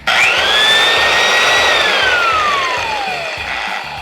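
An old corded power tool, a jigsaw over 50 years old or a sander about 70 years old, runs loud and close with a steady motor whine that bends in pitch as it spins up and then slowly winds down.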